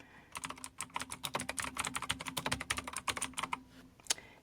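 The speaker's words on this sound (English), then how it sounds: "It would help if my keyboard was typing." Rapid, steady typing on a computer keyboard, quick clicky keystrokes in a continuous flurry, fairly quiet and close.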